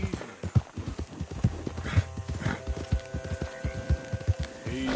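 Horse hooves clip-clop at a steady walking rhythm in the video game Red Dead Redemption 2, close and fairly loud over a soft background hum.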